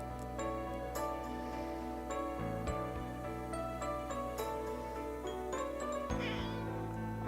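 A house cat meows in a room alongside a steady tonal hum, its calls rising and falling a few times over several seconds, fairly close and clear with no talking.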